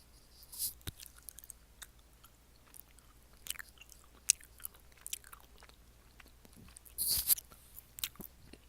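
Someone chews GS25 Sakeru gummy candy close to the mic, with soft, scattered squishy bites and mouth sounds in a quiet room and no talking.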